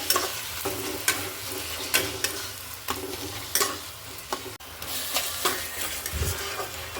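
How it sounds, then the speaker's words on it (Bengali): Chopped tomato stirred into spiced oil for a Bengali-style meat curry, with a low sizzle under repeated rhythmic spatula scrapes and knocks on the pan. "দেখুন আমি এবার এরকম করে নাড়তে থাকবো"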